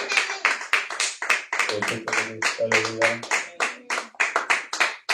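Church congregation applauding during a worship service, dense rapid clapping with a few raised voices and sung tones mixed in, steady and close throughout.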